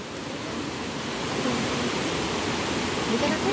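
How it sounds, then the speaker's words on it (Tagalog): Strong waves break on a shore during a family beach outing, a loud, continuous roaring wash that swells slightly toward the end. "Ay, lakas ng alon."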